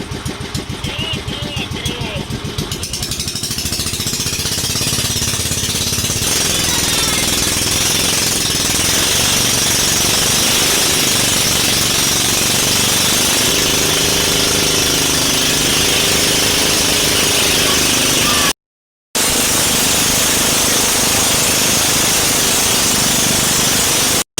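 A loud boat propeller engine drones steadily and continuously with a rapid chugging rhythm, close by at sea, with brief voices near the start and a short gap near the end.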